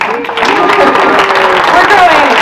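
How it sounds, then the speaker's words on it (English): Audience applause at the Common Ground 2022 gathering, a broad, continuous wash of clapping heard under a loud voice talking over it. "can I get another round of applause for Stephen Ellington?"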